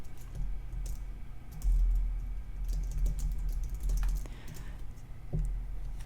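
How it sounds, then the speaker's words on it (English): Fingers type on a computer keyboard, producing a steady run of light key clicks over a low background hum, with no voices. "So I'm just going to type something completely random in here."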